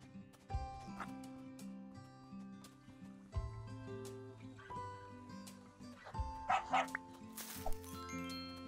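Game dog in the farming sim Big Farm Story barks several times amid a busy, tonal game soundtrack, with yips breaking through the music in short bursts.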